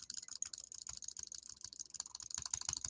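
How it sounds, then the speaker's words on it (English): A computer keyboard is typed on rapidly and continuously, a dense stream of loud, crisp clicks close by with no talking. "Sorry about the loud clicking sounds."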